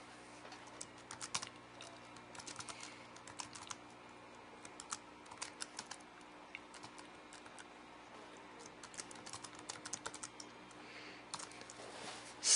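Computer keyboard typed at steadily while entering Android code, with irregular clusters of close, crisp key clicks and short pauses throughout, and no talking.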